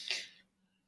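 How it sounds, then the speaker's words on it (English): A single short, sharp sneeze close to the microphone, a hissing burst that fades within half a second into quiet. "was trying not to sneeze"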